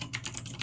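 Mechanical keyboard keys clack in a quick, steady typing rhythm, several distinct crisp strikes close to the microphone with no talk.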